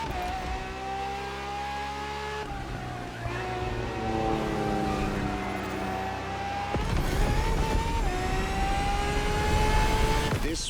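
A Ferrari FXXK supercar driven in The Crew Motorfest, its engine droning and climbing in pitch through several gear changes, with a sharp shift partway through and a louder, harsher roar near the end.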